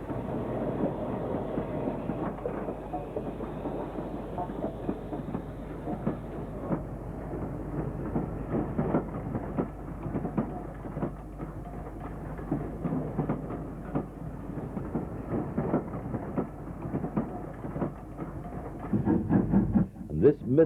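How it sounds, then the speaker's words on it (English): A Stanier 8F steam locomotive hauls a breakdown train at Stechford, a steady low rumble with rhythmic rail clatter that rolls on throughout at moderate distance and grows a little rougher near the end. "The Stanier 8F on the breakdown train was also filmed at Stetchford."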